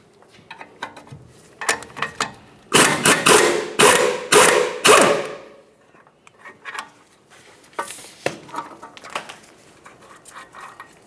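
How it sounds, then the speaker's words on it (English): Metal clicks and ratcheting come from a wrench loosening 19 mm nuts on the front strut bolts of a 2006–2011 Honda Civic. Scattered close taps and clinks surround a denser burst of ratcheting in the middle, with no talk. "Let's hold the bolt and remove each of the nuts."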